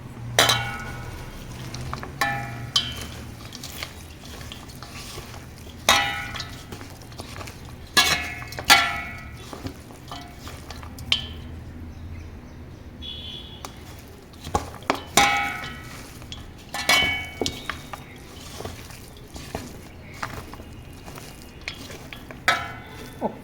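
Chicken pakodi batter being mixed by hand in a bowl, with repeated clinks and scraping knocks in an irregular rhythm over a steady low background hum.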